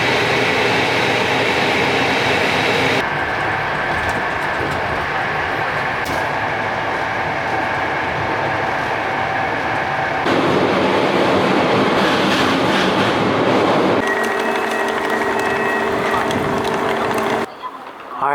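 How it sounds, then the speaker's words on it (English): A train rumbles and rattles loudly nearby, wheels clattering and the pitch shifting in stages as it rolls into a station in Przemyśl, Poland, with faint voices beneath. "And my train is almost here."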